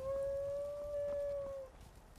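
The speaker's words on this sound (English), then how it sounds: "Literally, a lot of wolves." A single wolf in the Skyrim video game gives one long, level howl that fades out after about a second and a half, with no talk.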